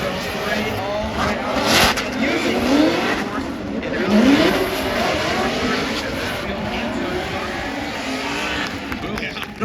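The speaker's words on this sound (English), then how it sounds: "Christopher Forsberg and the all-new Z initiates in that first outside zone" A Nissan Z and a Corvette drift racing through an outside zone, engines roaring steadily with rising revs and tire squeal, under continuous commentary from an announcer over a crowded track soundscape.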